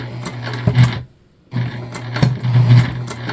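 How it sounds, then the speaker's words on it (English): A sewing machine, hand cranked, whirs in two bursts separated by a short pause, with a rhythmic clicking knock as the back of the tank foot catches. "That noise is just the back of my tank foot catching."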